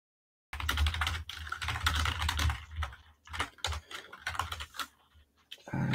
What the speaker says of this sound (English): I've just got a loud keyboard.